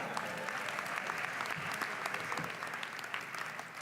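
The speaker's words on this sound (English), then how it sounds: "I join you in giving them the applause they have so richly earned" An audience at a speaking event for Sheriff Joe Arpaio applauds steadily, dense clapping at moderate level throughout, tapering slightly toward the end.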